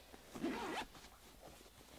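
A recessed zipper on a quilting-cotton lunch bag pulls open in one quick, close stroke, followed by faint rustling in a quiet room.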